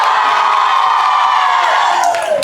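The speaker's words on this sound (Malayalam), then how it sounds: "ഒരു ആരവം ഒന്ന് കേൾക്കട്ടെ" An audience cheering and shouting together at a live event, a loud, dense roar sustained throughout with whoops rising near the end.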